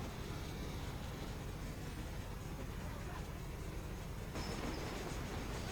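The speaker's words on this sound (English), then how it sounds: "you're just riding the train" Steady train rumble and rolling rail noise from a ride aboard a train in the Red Dead Redemption video game, a continuous broadband drone with a slight lift in level near the end, no voices.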